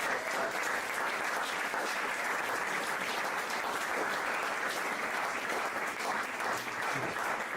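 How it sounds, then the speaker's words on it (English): Sustained, dense round of applause from the audience at a Bristol startup pitch event, even and continuous throughout with no speech on top. "Can we get a round of applause for us?"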